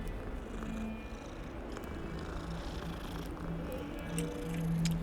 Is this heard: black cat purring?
yes